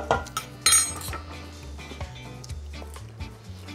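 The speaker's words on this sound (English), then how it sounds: "So let's just whisk that up." A utensil clinks and scrapes rapidly against a bowl while whisking a dressing of soy, rice wine vinegar and vegetable oil, with several sharper metallic taps standing out near the start.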